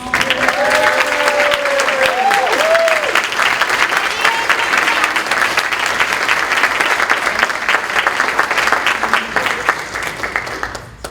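Loud, sustained applause from an audience at the Great Futures Night Awards Ceremony 2025 honoring a clubhouse member, with a voice audible early over the clapping before it fades at the end.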